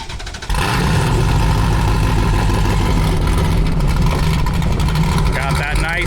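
A 1700HP sandrail engine starting at Glamis: a short quiet lead-in, then the engine catches and settles into a loud, uneven, lopey idle that holds steadily to the end.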